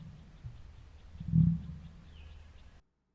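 Emu giving a low croak, a single deep rumbling growl that swells and fades in the middle over a quiet low hum, close and moderately loud.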